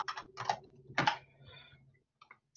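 Soft clusters of keystrokes on a computer keyboard, a few short bursts of clicking separated by pauses, faint and close, ending with a couple of isolated taps.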